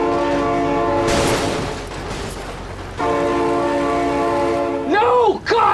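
A loud, sustained train horn from the BeamNG Drive game sounds, breaks into a noisy burst, then resumes its steady blast before warbling, wavering tones close the moment.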